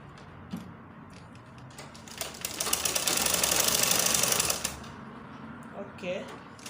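A sewing machine stitches a circle skirt near its zipper, running in a steady whirring burst of a couple of seconds mid-way, surrounded by quieter handling noises and light background sound.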